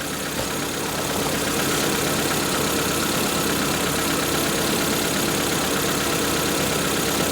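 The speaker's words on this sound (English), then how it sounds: "It's still misfiring." Proton Wira car engine idling with a misfire from a fouled spark plug, running as a steady, close, continuous rumble throughout, with no talking.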